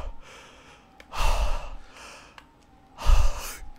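Heavy, close breathing aimed at a doll in the horror game Resident Evil Village: two loud, breathy exhalations with quieter inhales between them, no talking.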